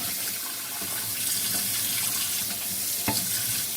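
Tap water runs steadily into a sink as a strainer of sea moss is rinsed under it, a close continuous splashing rush with a small clink near the end.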